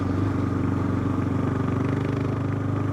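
A Kawasaki KLR 650 motorcycle engine runs steadily and loud and close throughout, with a continuous throbbing mid-range drone on a freezing February ride.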